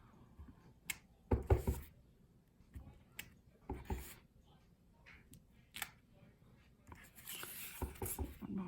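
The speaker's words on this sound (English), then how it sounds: "take a piece of scratch paper here just to protect my work surface, and then want to just stamp again randomly around" A rubber stamp is pressed repeatedly onto scratch paper laid over a work surface for a masking craft project, giving a scattered series of soft, close thumps and taps at irregular intervals in a quiet room.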